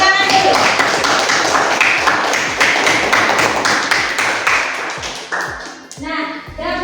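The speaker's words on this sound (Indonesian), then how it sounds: "Tepuk tangan dulu." A classroom group claps hands in rhythmic unison, sharp regular beats close and loud, slowing and breaking apart near the end as voices and a brief tonal sound come in.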